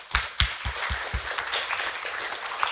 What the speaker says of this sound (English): big applause for jury